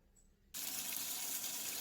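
A kitchen tap suddenly turns on and runs steadily, washing chopped cauliflower and onion under a close, even gush of water with no talk.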